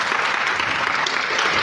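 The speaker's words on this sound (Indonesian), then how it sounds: "semuanya mari berikan tepuk tangan untuk kontestan nomor urut 6" An audience at a high school contest applauds a contestant, a steady, dense wash of clapping that stays even and close throughout, with no voices over it.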